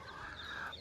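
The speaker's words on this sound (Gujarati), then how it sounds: "પોપટ બોલે" A parrot gives one short, faint, whistly call at a home.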